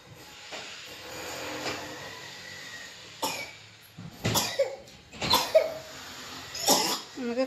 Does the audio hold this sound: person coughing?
yes